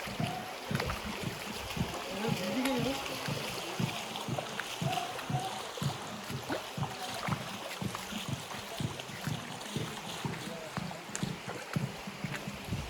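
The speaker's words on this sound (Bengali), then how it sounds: "পাহাড় ঘাইমা ঘাইমা পানি পড়তেছে দেখ।" Water tumbling down a hillside at the Fakir Murong waterfall, a steady outdoor rush heard close with repeated thumping knocks over it and voices talking in the background.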